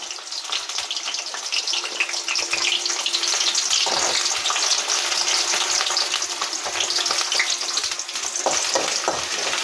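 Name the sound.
ginger and garlic frying in oil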